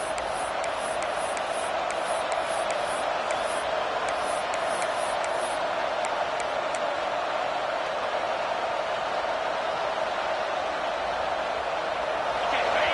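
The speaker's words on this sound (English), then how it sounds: "It's early, but this crowd is fired up. Listen to this noise here." A constant roar of a large stadium crowd in a Madden football video game on PS5, dense and sustained throughout, with faint high clicks early on.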